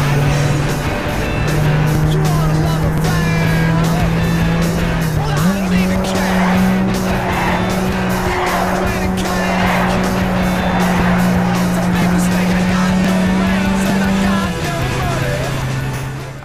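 A race car in the driving game Gran Turismo 5 Prologue drives continuously, its engine note holding steady with a few gear shifts and tire squeal, while people talk over it.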